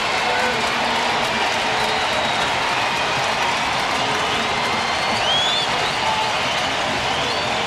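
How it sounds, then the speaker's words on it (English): Crowd at a Tampa Bay Rays at Oakland Athletics baseball game, a steady wash of stadium crowd noise and cheering throughout, with faint voices in the mix. "Crowd making some noise."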